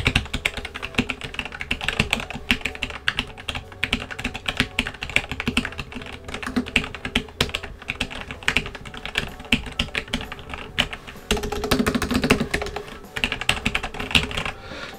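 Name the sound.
typing hard on silent red-switch mechanical keyboard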